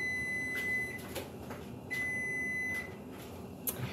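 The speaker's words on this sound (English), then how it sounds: "Turn off my oven timer there." A kitchen oven timer sounds a series of steady high-pitched beeps, two longer tones with shorter chirps between, faint against quiet room noise and without talk.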